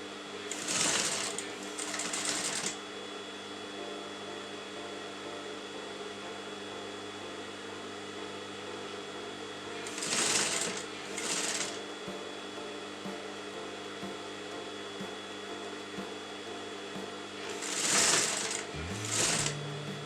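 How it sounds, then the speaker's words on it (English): A sewing machine stitches a wedding designer blouse in short whirring bursts separated by long pauses, close and moderately loud over a steady background hum. "Fold it to the exact corner and you're going to sew that on top of this."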